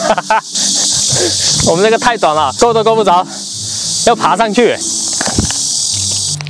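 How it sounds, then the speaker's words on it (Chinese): Dense, loud cicadas drone continuously from trees in a summer grove in Jinan in July, a steady shrill buzz that stays up front the whole time while someone talks over it. "就是我现在身后特别吵的知了"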